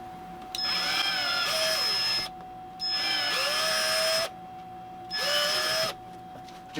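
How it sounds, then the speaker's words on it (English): A power drill enlarging holes in a kayak whirs in three separate bursts, each a couple of seconds long, its pitch dipping as it bites in, with short pauses between. "found the drill again. So make these holes just a little bit bigger."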